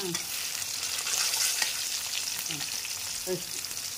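Stuffed bitter gourd frying in oil in a pan on a gas stove, a soft, steady sizzle with occasional stirring scrapes, fairly quiet and with no talk.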